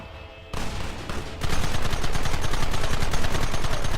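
Gunfire from the Red Dead Redemption campaign: after a quieter start, a loud, dense volley of rapid shots builds and keeps going with a steady, crackling rhythm close up.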